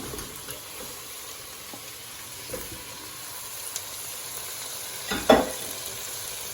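Chicken pieces frying for Kerala-style chilli chicken give a steady close sizzle in a pan, with a few sharper crackles and a louder burst near the end; no one speaks.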